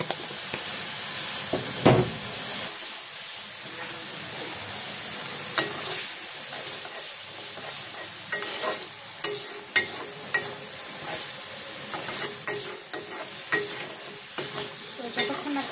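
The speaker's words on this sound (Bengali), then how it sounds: "যতক্ষণ না তেল উঠে আসতেছে আমাকে কষে নেব ভালো করে" A spice mixture is stirred and sautéed in oil, a dense hissing sizzle running throughout with repeated scraping strokes and small clatters of the spoon against the pan.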